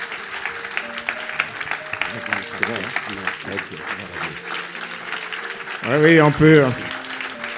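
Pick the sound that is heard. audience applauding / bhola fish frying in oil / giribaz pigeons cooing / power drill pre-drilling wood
audience applauding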